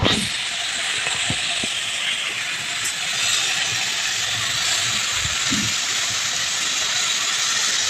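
Ghetkol with jackfruit seeds frying in a pan, a continuous close sizzle and hiss with occasional faint clinks and stirring knocks, steady throughout.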